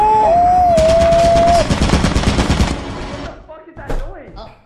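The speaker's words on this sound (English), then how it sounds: "Someone got shot with a turret." Rapid automatic turret gunfire in Lethal Company, a dense burst of loud shots lasting about two seconds over a steady electronic tone, trailing off into short game sound effects.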